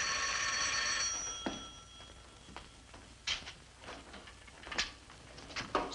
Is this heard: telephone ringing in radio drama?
yes